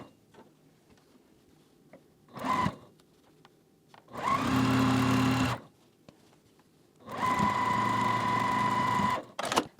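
Sewing machine stitching a row of Ohio Star quilt blocks, running in three bursts: a short first run, then two longer steady whirring passes, close and loud with pauses between.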